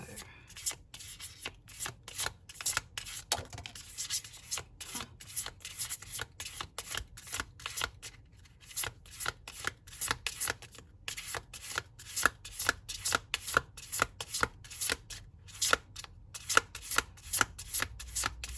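Tarot cards being shuffled by hand, a long run of quick riffling, rubbing bursts in an uneven rhythm, close and quiet with no talking.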